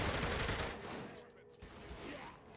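A vehicle turret on a Bulldog fires in Saints Row The Third, continuous rapid gunfire rattling for a few seconds at moderate level, with voices faintly mixed in.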